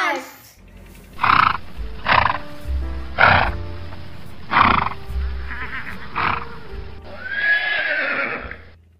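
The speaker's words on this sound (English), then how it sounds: "H for horse." A horse neighs in a children's alphabet song, with several loud, close whinny bursts spaced a second or so apart and low hoof-like thuds beneath.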